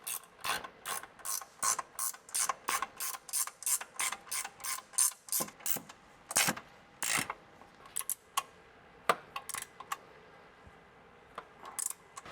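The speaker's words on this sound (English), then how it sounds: "Go ahead and tighten all of these down." A hand ratchet tightening nuts on a Toyota Tacoma suspension during a lift kit install, a rapid series of sharp close clicks in bursts, with no talk.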